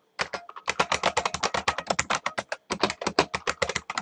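Rapid keystrokes clatter on a computer keyboard, close and crisp, in a quick run that stops for a brief pause and then starts again.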